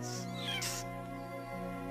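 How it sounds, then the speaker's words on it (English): A cartoon leopard cub gives high, thin mewing cries, two or three short squeaks over a steady low background hum. "Just a little kitten, too."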